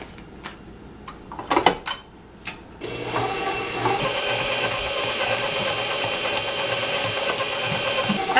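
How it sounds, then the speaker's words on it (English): A stand mixer creaming softened butter and sugar for soft sugar cookies. A few clicks and bumps come first, then the motor starts and runs as a steady, close whir with a rhythmic mechanical rattle. "Put that into your mixer, and then we're going to cream them."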